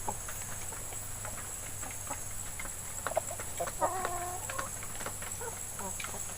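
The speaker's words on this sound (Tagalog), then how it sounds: "Ito yung aking bird plymouth rock." Plymouth Rock chickens on a small free-range farm cluck a few times in short bursts midway, faint against a steady background hum.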